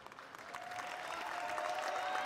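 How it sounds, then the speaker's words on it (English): A crowd at a fencing semi-final cheers and claps, the noise building steadily from moderate to loud and sustained, heard from some distance in a large hall. "And a big cheer"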